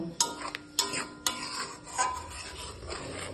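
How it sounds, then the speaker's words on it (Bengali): Spices are stirred and fried in a pan for a Bengali-style duck egg curry, with a few sharp metallic scrapes and taps of a spoon against the pan, close and crisp, over a faint sizzle. "এবার আমি মশলাগুলোকে ভালো করে নাড়াচাড়া দিয়ে কষিয়ে নেব"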